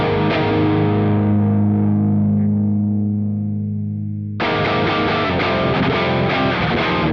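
An electric guitar goes through a Joyo Orange Juice overdrive pedal with the voice (mid-boost) knob turned all the way up. One gritty chord rings out and fades slowly for about four seconds, then a dense, driven burst of strumming cuts back in loud.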